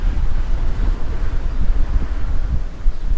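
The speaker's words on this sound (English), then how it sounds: "Boy, the wind's blowing me along." Wind buffets an outdoor microphone at the seaside resort of Palmanova, Mallorca, a loud continuous low rumble with gusty surges throughout and no voices.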